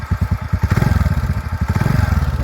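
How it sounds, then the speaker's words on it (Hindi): A TVS Ntorq scooter engine revs up under acceleration at close range, producing a loud, rhythmic rapid thumping and clattering beat with an odd knocking character throughout. "थोड़ा इंजन से कुछ साउंड आ रहा है।"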